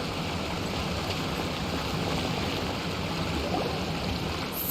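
Steady broadband rushing of a waterfall in Genshin Impact, constant and full, with no voices.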